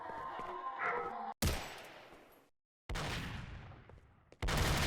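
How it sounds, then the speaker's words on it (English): Loud bursts of gunfire in the video game S.T.A.L.K.E.R. (OGSE mod), several heavy volleys separated by short silences, close and harsh with trailing echo. "they just react to the sound of the gunfire"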